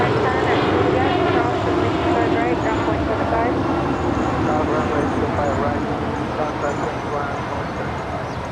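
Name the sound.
airplane at Los Angeles airport LAX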